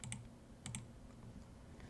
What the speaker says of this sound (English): I'm gonna type in Ulster.